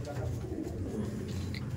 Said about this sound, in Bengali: একটু আলাদা রকমের ভিন্ন একটা আবলুক পায়রা আপনার সামনে তুলে ধরছি ভোলানাথ চক্রবর্তী স্যারের